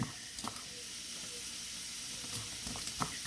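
Whole spinach leaves sizzling in a hot pan on a home stove, a steady soft frying hiss with a few faint clicks and stirring knocks, no talking.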